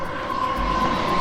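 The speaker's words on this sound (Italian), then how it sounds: "A parte il treno che passa" A train passes steadily near a quiet lakeside spot in Umbria, a continuous rumble with a sustained high rail whine held throughout, loud and without talk.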